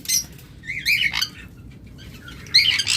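Pet sun conures and lovebirds kept for sale chirp and squawk in short bright bursts, several calls overlapping close by, with a faint low background hum and no speech.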